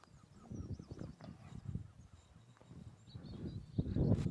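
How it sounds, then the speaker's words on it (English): Ducks calling with a few honking, quacking notes at a distance over low rumbling noise, faint and intermittent. "Few ducks flying overhead, 3 ducks."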